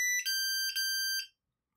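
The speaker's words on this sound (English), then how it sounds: "Windows goes beeps." Three short electronic Windows USB device connection chime bursts, evenly spaced and bright, ringing clearly before falling to silence.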